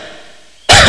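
A single sharp cough bursts out loud and close at the very end, following near silence.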